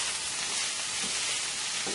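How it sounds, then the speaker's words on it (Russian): Stewed cabbage with pepper being stirred in a pan, a continuous soft sizzle and hiss with faint scraping underneath, close and steady for two seconds. "Все это хорошо перемешиваем."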